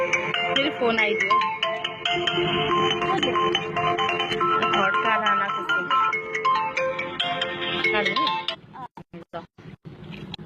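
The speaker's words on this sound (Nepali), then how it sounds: "फेरि फोन आइदियो" A mobile phone rings with a loud, continuous melodic ringtone that fills most of the stretch, then breaks off near the end into a few short, choppy bursts.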